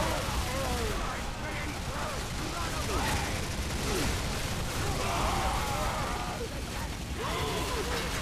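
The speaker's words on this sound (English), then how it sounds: "I don't know why I kept shooting that guy." Rapid gunfire and blasts from the Bulletstorm shooter video game run through the whole stretch, dense and continuous, mixed with game effects and a voice talking over the action.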